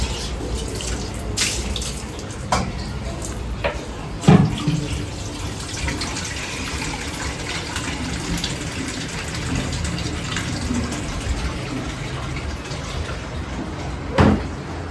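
A household water tap runs steadily into a container, a continuous splashing fill with a few louder clunks of vessels being moved.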